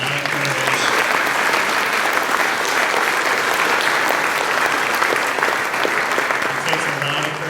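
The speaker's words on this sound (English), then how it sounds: "We give them a round of applause." An alumni instrumental music concert audience gives a long, full, even round of applause for student performers, sustained and loud throughout with faint crowd voices underneath.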